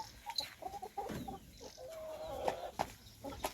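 Hy-Line laying hens around 21 weeks old cluck in short, irregular bursts nearby, with a few drawn-out calls mixed in and a low background hum.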